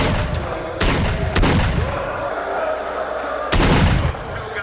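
Loud, booming gunshots ring out in the arena of STALKER Shadow of Chernobyl: a few heavy separate blasts with rumbling tails between them, close and dominant.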